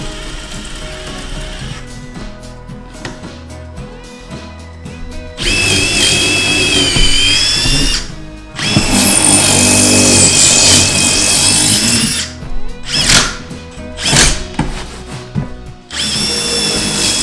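A power drill with a concrete bit bores a pilot hole for concrete screws in a garage DIY build, grinding loudly in long bursts separated by short pauses and quieter stretches, close up and with no talking.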